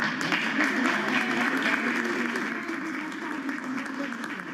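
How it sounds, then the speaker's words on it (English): An audience in the White House State Dining Room gives sustained applause after a speech by President Biden, a steady, dense clapping that slowly eases, with voices mixed in. "President Biden with a receptive crowd in the state dining room"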